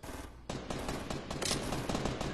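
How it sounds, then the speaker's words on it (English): Rapid gunfire crackles in a Fortnite match, a dense run of sharp, close shots firing in quick bursts that continue steadily throughout. "Somebody somebody's shooting at me. I saw bullets coming my way."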